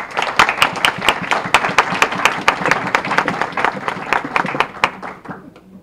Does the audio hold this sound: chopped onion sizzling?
no